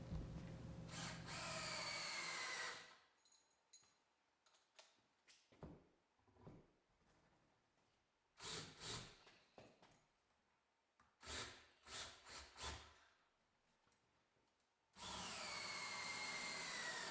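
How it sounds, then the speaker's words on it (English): A power drill drives bolts into a 2x4 and pipe lumber storage rack in a garage wood shop, loud whirring runs at the start and end with quieter clicks, scrapes and short bursts between. "I'll start the bolts with the drill and finish with a wrench."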